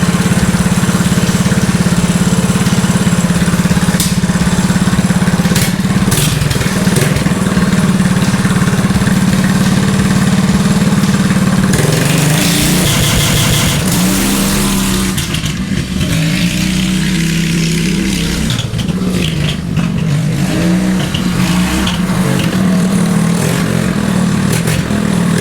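A Murray Track 2 mini bike's small engine fires up, idles roughly, then revs up and down in repeated bursts. The engine is loud and close throughout, with no talking.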